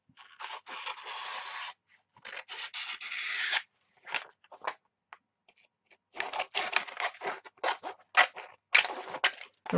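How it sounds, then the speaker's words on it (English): Scissors snip and rustle through excess wax paper in repeated bursts of cutting. The sound is close and fairly quiet, with short pauses between runs of snips. "Just trim this excess wax paper off."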